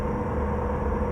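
A modded Peterbilt 389 truck engine in a trucking game, a steady low rumbling drone held at constant level throughout.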